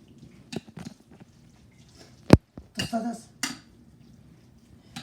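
Salsa ingredients tossed and stirred in a bowl: scattered soft clinks, scrapes and wet squishes, with one sharp utensil knock against the bowl midway, close and fairly quiet.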